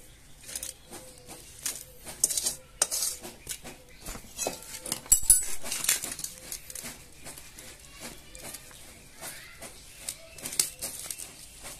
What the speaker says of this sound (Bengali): এবার থালাতে ঢেলে দেবো।